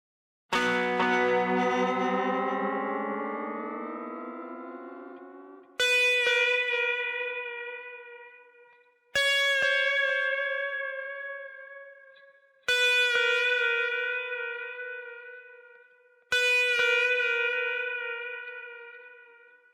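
An electric guitar plays sustained, ringing notes in a solo tone through tape echo and reverb, each struck note echoing and decaying slowly in a spacious reverb, five phrases in a row.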